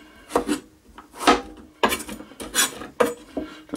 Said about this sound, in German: Erstmal ein bisschen putzen, beziehungsweise die trockene Haut außenrum abschneiden.